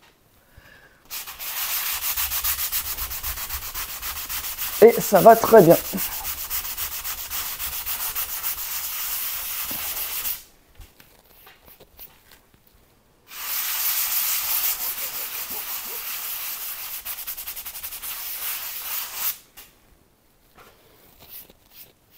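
Hand sanding with a sponge: two long stretches of steady scratchy rubbing separated by a pause, with a brief spoken phrase early on.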